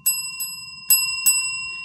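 A bright metallic scale-model old Baldwin locomotive bell sound rings four times at uneven intervals, each strike clear and ringing with sustained overtones, close by and alone.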